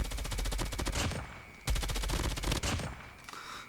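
Assault rifle fire in Call of Duty Mobile during ranked gameplay: loud, rapid full-auto bursts, one long stream, a brief break, then a second sustained burst trailing into scattered shots, with no talking.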